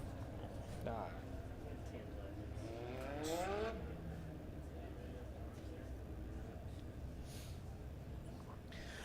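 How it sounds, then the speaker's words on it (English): Legend race cars run a heat race at Springfield Raceway under the lights, one engine revving and sweeping past at a distance beneath an announcer's continuous commentary. "Legend cars on the track for heat race number 1"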